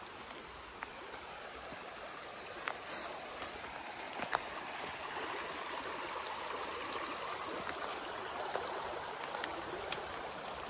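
Steady broadband rush of creek water flowing over rocks in a wooded mountain stream, continuous and moderately close, with a few faint clicks and knocks on top and no talking.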